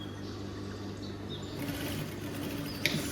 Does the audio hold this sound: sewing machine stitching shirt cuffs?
yes